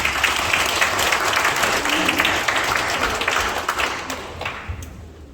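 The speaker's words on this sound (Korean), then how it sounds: "여러분 박수로 맞이해 주십시오." Audience applause at an opening concert event welcomes a speaker to the stage, a dense, steady wash of many hands clapping that carries through and starts to thin near the end.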